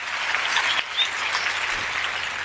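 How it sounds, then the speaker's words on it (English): Audience clapping at a live show, a short burst of dense, close applause lasting a couple of seconds without talk. "Let's clap for her."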